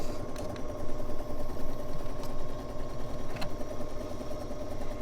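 A sewing machine stitching a quarter-inch quilt seam in a Celtic quilting demonstration runs continuously at an even, rapid pace, its close mechanical whir and rattle unbroken, with faint clicks over it.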